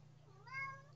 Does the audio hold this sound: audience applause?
no